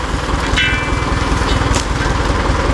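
A small Voltron engine-driven water pump runs steadily for watering eggplants, a loud, close, rapid buzzing chug with a constant rhythm and brief faint clanks over it.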